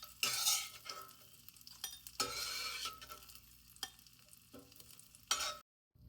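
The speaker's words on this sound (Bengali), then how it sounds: "জাস্ট 1 সেকেন্ড ভাজবো। জাস্ট ভেজে এখন জাস্ট উঠিয়ে নিব।" Ingredients for poha fry and sizzle loudly in a pan while being stirred, with scraping bursts of the spatula over steady crackling, before the sound abruptly cuts to silence at the end.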